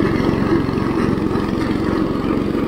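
An IH Cub Cadet 149 garden tractor mows heavy barnyard grass with dull blades. Its engine chugs loudly and steadily nearby with a rapid, even pulse and no pause.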